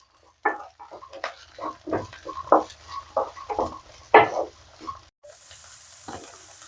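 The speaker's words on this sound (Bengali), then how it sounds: "দিয়ে এটাকে হালকা ভেজে নেব।" Carrots, beans and peas fry and get stirred in a pan for a breakfast semolina upma, giving irregular scraping and sizzling bursts up close with short pauses between.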